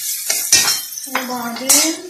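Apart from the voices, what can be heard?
stirring garlic with onion and pepper in the pan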